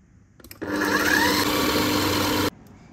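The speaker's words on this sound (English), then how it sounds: "I am going to blend my dried chilies that I've boiled. I'm using a food processor" A food processor blending boiled dried chilies for chili paste starts abruptly, runs as a loud steady whirring buzz for about two seconds, then cuts off sharply.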